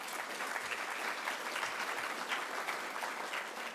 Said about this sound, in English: So a big round of applause for Laurence.